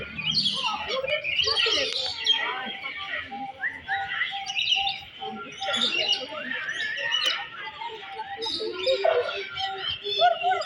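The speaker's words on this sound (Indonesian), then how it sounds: "ada burung di atas." Birds chirp overhead at the Animalium Bogor animal park: a busy mix of short tweets and calls overlapping through the whole span, with some background voices.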